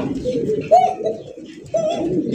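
Caged pigeons kept for sale coo close by in low, throaty rolling calls, with two more prominent coos rising above a steady murmur of cooing and a faint background voice.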